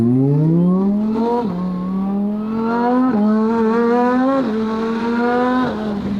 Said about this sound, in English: You can go and the downshifts are fast. Really fast.